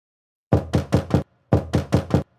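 Police knocking on a motel room door before dawn: two crisp bursts of four firm, evenly spaced raps with a short pause between, close and loud, with no voices.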